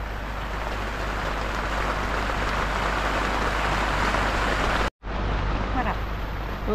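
Heavy rain drums steadily on a camping tent fitted with a rain cover, a dense, constant hiss and patter close overhead, briefly cut off by a short dropout near the end before resuming.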